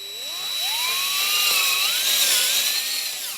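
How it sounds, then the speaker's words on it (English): A power drill boring a hole with a 1/2 inch bit, a loud whining motor that rises and dips in pitch as it works through the material, running steadily for a few seconds with no talk. "at the bottom we're just going to drill a hole using a 1/2 inch drill bit"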